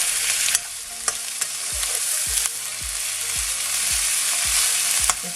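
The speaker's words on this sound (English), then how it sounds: "And about half a teaspoon of salt. And I'm going to give it a mix now." Fish pieces with salt fry in a pan for Bengali fried fish as they are stirred, a steady bright sizzle broken by a regular series of low knocks and scrapes of the spoon against the pan, close and clear with no talking.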